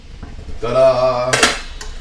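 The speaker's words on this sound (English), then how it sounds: "Okay, let's give it a stir." Metal utensil scraping and clattering against a pan while a beef and broccoli stir fry is stirred, a short close burst of scraping with a brighter clank near the end, no talking.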